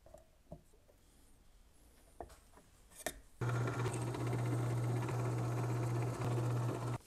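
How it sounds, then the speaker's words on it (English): Drill boring a hole in plastic, starting abruptly after a few quiet clicks and handling noises, then running as a loud steady whirring hum for several seconds before stopping. "what I'm going to do is I'm going to drill the holes in the plastic"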